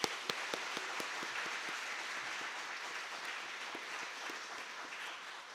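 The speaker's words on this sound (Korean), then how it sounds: "박수하겠습니다" A church congregation applauds together during an afternoon worship service, a steady, dense wash of clapping with a few sharper individual claps at the start, continuing evenly without speech.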